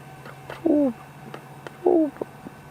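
A ring-necked dove calls twice in the distance during a late-afternoon safari in South Africa's Sabi Sand, each soft, rolling coo standing alone over faint background ambience.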